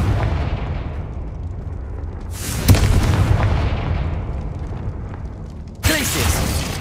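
Confringo fire spell explosions in the Hogwarts video game: a low rumbling blast, then a sharp booming burst with a rolling tail, and a second abrupt explosion near the end.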